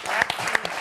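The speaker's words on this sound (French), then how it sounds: "On peut applaudir votre blague quelques mois après." Brief burst of studio audience clapping during a French football talk show, a dense patter of hands lasting under a second with no voices over it.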